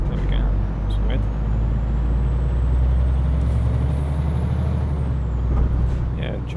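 Truck engine in Euro Truck Simulator 2 revving high while shifted into neutral, a steady loud drone with a hiss near the end, under continuous talk.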